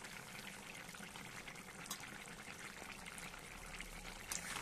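Mustard paste goes into a simmering curry of small mourala fish with ridge gourd and snake gourd. A soft, continuous bubbling and wet churning stays faint throughout, with a couple of small splashy accents.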